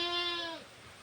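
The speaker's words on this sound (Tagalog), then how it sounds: "Ay, naku, mga kambing ko dadalaw na, dalawang babae." A single goat gives one short, clear bleat up close, a bright tonal cry that fades off quickly with nothing else over it.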